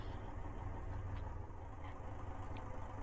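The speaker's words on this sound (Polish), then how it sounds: "Dźwięk silnika oczywiście waniliowy" A vehicle engine runs at a steady idle in the video game ArmA 3 with the CSLA DLC, a continuous low rumble with no breaks or revving.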